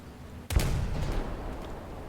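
A Jagdpanzer tank gun in War Thunder fires a single sharp, loud shot at a Sherman tank, then a rumbling echo decays over about a second and a half.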